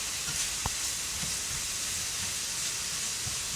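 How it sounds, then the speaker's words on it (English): Cabbage with ham stir fries in a pan, giving a constant soft hiss and sizzle with a few faint clinks of utensils, fairly quiet and with no talk over it. "So we are basically stir frying"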